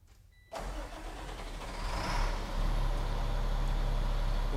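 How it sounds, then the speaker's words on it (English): A salt truck's engine cranks and fires after a brief quiet moment, then settles into a steady, loud, close idle that swells slightly as it runs on alone. "Go ahead, Mike, start up the truck."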